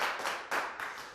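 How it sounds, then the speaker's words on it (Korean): A lecture audience claps in short bursts, a few rhythmic rounds of hands coming in waves, fairly faint and with no talk over it. "박수를 쳐주면서"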